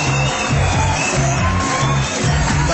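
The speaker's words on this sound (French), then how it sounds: "Applaudissez-la, tout à l'écran." A crowd at a televised music performance cheers and whoops, a dense, continuous wash of voices filling the space at even loudness throughout.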